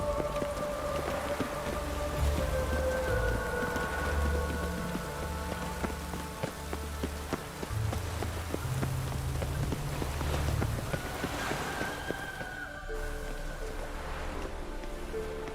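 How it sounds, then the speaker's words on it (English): Steady rain in The Witcher 3 video game patters on surfaces throughout, a dense constant hiss with scattered droplet ticks and faint background ambience. "No use doing any work in this rain."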